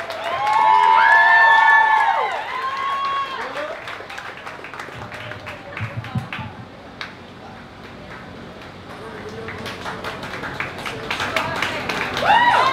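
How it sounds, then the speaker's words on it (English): Audience at a poetry slam clapping and cheering, with whoops and shouts rising over broadband applause that swells loud at the start, dips in the middle and builds again toward the end. "go ahead and start clapping, start clapping, start clapping"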